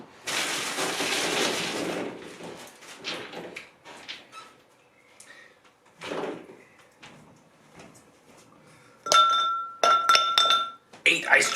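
Ice cubes dropped into a drinking glass for an iced coffee drink, giving a few bright, ringing clinks in quick clusters near the end, after earlier rustling and handling noises.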